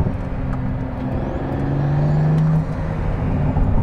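A Pagani Huayra Roadster BC hums at low speed with a steady whir that rises briefly in pitch as the car shifts and maneuvers, then settles.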